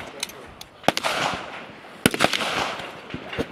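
Rifle and pistol shots fired at a regional shooting competition stage, heard as several sharp, distant cracks spaced irregularly over a few seconds with faint background noise.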